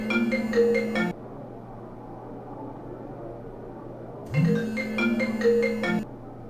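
A phone ringtone plays in two bursts of a repeating melodic ring, about a second, then a pause of roughly three seconds, then nearly two more seconds, ringing for an incoming call in a quiet indoor scene from a short film.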